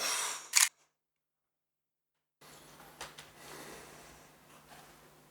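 A phone camera shutter fires for a group selfie, one sharp close click followed by a stretch of dead silence, then faint room noise and soft breaths.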